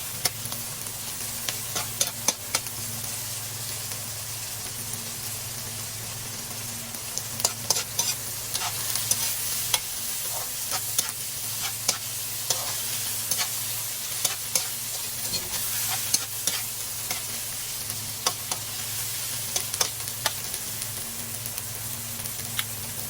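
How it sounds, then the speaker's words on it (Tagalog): Tomatoes sauté in a hot pan with a steady sizzle and frequent scraping stirs of a utensil, close and continuous throughout with no talking. "Ituin po natin yung ating kamatis ng maigi"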